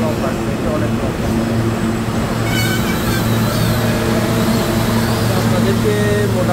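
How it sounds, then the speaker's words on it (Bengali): A long subway train rumbles steadily past at Jackson Heights, a continuous close roar of rail noise with a brief squeal partway through. "অনেক লম্বা, ট্রেনটা অনেক লম্বা।"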